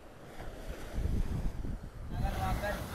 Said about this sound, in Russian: Пойдем в море с рыбаками сейчас на вот этой лодке.